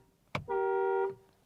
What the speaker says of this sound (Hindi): और ये है हॉर्न साउंड।